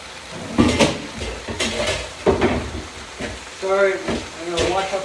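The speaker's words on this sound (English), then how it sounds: "I'm going to wash up some of these dishes while it's cooking" Dishes are washed up beside cooking beef sirloin, with clinks of plates and cutlery, running water and a background sizzle. The sounds come in irregular bursts, close and moderately loud, with a voice talking over them.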